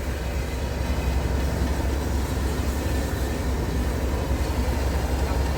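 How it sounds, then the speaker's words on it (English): Merchant Navy class steam locomotive 35006 hauling coaches, a loud, continuous low rumble and roar of the train running close by, steady throughout with no voices. "the Merchant Navy class is still steaming rather well"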